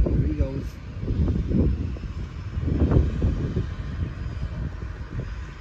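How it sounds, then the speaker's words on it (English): A low, rumbling drone of a helicopter passes overhead at a distance near Agassiz, British Columbia, steady and fairly loud, with a brief voice near the start. "So you hear the helicopter?"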